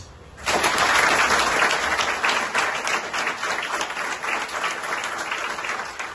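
Audience applause for General Dogo Blé bursts in after a brief pause and holds steady and loud, a dense wash of many hands clapping at once, with no voices rising above it.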